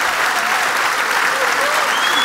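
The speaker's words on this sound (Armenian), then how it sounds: "ծափարենք մեր կանանց և աղջիկներին" An audience at a stand-up comedy show claps in a steady, loud burst of applause that fills the room and keeps going throughout, with a little crowd noise and a faint voice underneath.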